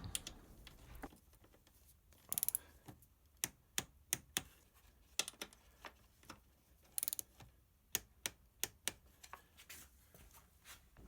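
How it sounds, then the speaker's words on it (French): Two bolts are tightened to 10 Nm on a vehicle cooling system, heard as close, sharp ratchet clicks in short bursts with pauses between them, quiet otherwise. "Je serre les deux boulons à 10 Nm."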